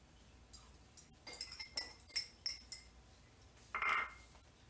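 Metal utensils toss a mustard-green salad dressed with vinegar, tomato and onion, giving a quick run of light, close clinks and scrapes against the bowl, then a brief pause and one last burst.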